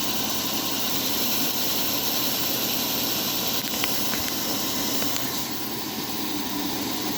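A model Alco diesel locomotive runs stationary on a powered rolling road, giving a steady, even motor hum and hiss throughout with a few faint clicks, loud and close with no voices.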